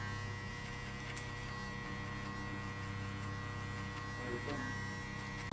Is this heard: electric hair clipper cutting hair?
yes